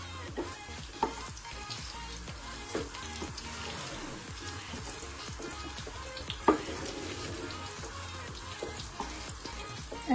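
Onion, capsicum and tomato fry in hot oil left over from frying paneer, a dense, steady sizzle with scattered spatters and occasional stirring clicks, heard close and alone.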